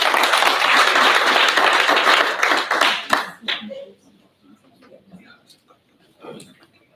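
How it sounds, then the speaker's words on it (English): Dense audience applause at a leadership summit hall fills the first three seconds before fading into scattered claps and quiet, with a voice faintly audible afterward. "please give him a round of applause"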